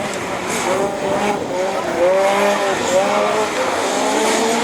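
A Division 4 rallycross race car at the 2012 French championship in Lessay pulls away again, its engine revving and climbing through gears with tyre noise, loud and close, while a commentator talks over it.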